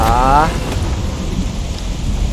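Heavy rain in the game Project Zomboid pours steadily with a deep rumbling underneath like thunder, loud and continuous; a brief tonal sound opens the moment.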